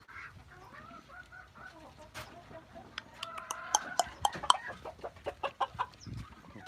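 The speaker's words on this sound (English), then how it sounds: "The male's quack is really hard to hear. The females are quite loud." Soft clucking builds into a quick run of loud, sharp quacks from nearby ducks, several calls in rapid succession before trailing off.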